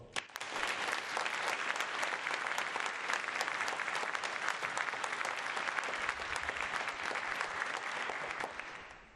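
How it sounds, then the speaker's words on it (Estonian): A large audience breaks into sustained applause in a reverberant concert hall after a wind band performance, a dense, steady clapping that swells quickly and fades at the end. "ma loodan, et me toetame suure aplausiga hetkel kohe kõiki orkestrid"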